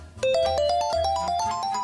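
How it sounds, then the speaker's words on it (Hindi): A phone ringtone plays loud and close, a bright electronic melody of rising stepped notes over a low synthetic bass pulse. "जरा फोन आया है मेरा"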